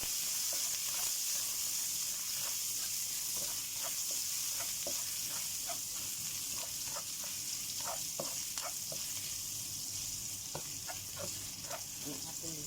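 Ginger sizzling and frying in a hot pan, a steady bright hiss with scattered crackles and pops throughout, close and continuous, with no talking over it.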